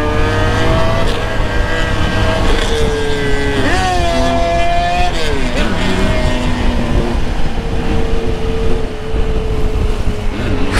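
A crashed Fiat car's engine revs hard at night in the street, loud rising and falling engine pitch with several sweeping revs, close and continuous, with faint voices underneath.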